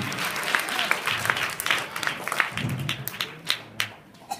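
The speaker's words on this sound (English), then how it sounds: "Give yourselves a round of applause." Audience applause fills a talk at a school for challenged children: sustained, fairly close clapping from many hands, with a few sharper individual claps rising near the end and scattered voices underneath.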